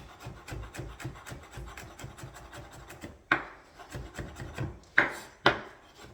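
Knife slicing garlic cloves on a wooden board for beef stroganoff, a quick steady run of soft close-up chopping taps, then a few louder sharp clunks toward the end, with no voices.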